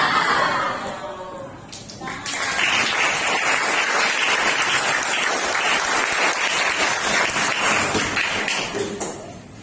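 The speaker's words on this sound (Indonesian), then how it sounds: "Bu Eri ingin memberikan aplaus kepada kalian." A sixth-grade class bursts into sustained, dense applause during a classroom lesson, rising after about two seconds and holding steady and loud until it fades at the end.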